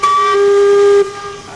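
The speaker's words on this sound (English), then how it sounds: "now I'm going to do 4 blasts now, Steve, which tells you I'm going to turn" A Thames steamboat's steam whistle gives one loud, sustained, piercing blast, then cuts off and leaves a fading hiss of steam.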